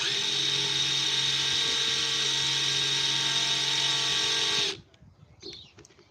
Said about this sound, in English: I'm countersinking a hole to make sure my screw fits in there.